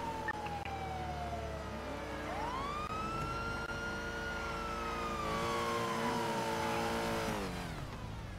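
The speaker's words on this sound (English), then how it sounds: "And I hear fucking there's sirens." A police car siren wails steadily in the GTA RP (NoPixel) roleplay game, a clear rising and falling tone that sweeps over a running engine rumble throughout, loud and close.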